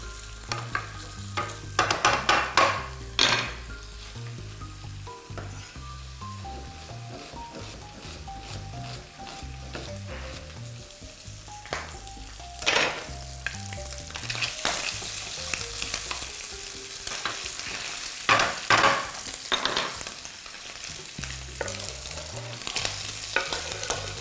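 Onion frying in a pan with ham until soft, a steady sizzle broken by repeated scraping and stirring strokes, with some clattering and a background melody running underneath.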